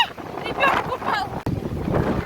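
Strong wind buffets the microphone at a lake beach in Borovoe in July, with rough waves surging and washing ashore beneath it; a voice speaks in the gusty roar.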